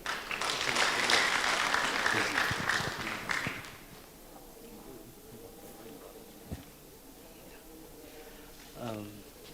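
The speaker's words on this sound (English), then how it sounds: "Another round of applause." A crowd at an examination results release ceremony applauds loudly for a few seconds, then the clapping stops abruptly, leaving a quiet room with faint shuffling and a brief voice near the end.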